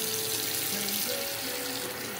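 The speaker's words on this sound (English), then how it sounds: "And I add some cold water" Cold water runs steadily from a kitchen tap into a bowl as eggplant is being prepared, a continuous close splashing stream with no talking.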